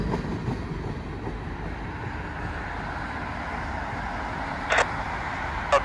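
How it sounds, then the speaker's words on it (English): A large freight train hauling hoppers rumbles past steadily, a continuous loud rolling roar of wagons with brief clanks near the end. "They got a big train though."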